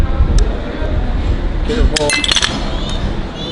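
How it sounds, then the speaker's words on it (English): A large crab claw shell is cracked open at a crab restaurant, giving a cluster of sharp cracks and clinks over steady background dining noise. "time to crack this open"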